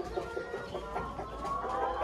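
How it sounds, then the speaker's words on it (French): Laying hens cluck in a poultry pen, with several overlapping soft clucks close by in a steady rhythm and no talking. "là où on va trouver encore des poules pondeuses"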